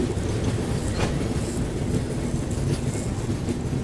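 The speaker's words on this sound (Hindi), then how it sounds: "गाड़ी अपनी रत्नागिरी से लंबे हॉल्ट के बाद, आधे घंटे के हॉल्ट के बाद निकल रही है वापस से" The 10103 Mandovi Express pulls out of Ratnagiri station after a half-hour halt, heard from on board as a steady, close rolling rumble with rhythmic wheel clatter throughout.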